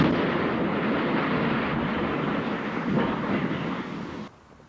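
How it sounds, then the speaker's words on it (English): A house explosion in the Choteau area of Knox County, caught by a neighbor's security camera, comes through as a loud, sustained, distorted roar and rumble filling several seconds before cutting off abruptly into quiet. "came across somebody who had security footage of the explosion"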